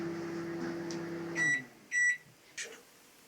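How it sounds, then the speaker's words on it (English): A Sharp R372M 900W microwave oven hums steadily with only its fan running and no heating, then stops and gives two crisp electronic beeps, followed by a softer click. "And now only the fan is going."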